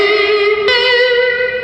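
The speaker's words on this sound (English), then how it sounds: "I turn on the distortion with the vibrato and the reverb and the chorus still on, which is why it sounds a little crazy" Electric guitar run through distortion, vibrato, reverb and chorus, ringing out a sustained, buzzing note that is freshly struck partway through and keeps shimmering loudly with no voices.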